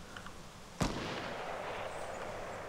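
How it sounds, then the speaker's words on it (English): A single loud gunshot cracks out in a Fortnite Battle Royale match, a sharp sudden blast followed by a lingering rumbling decay over quiet background. "You shooting at somebody else?"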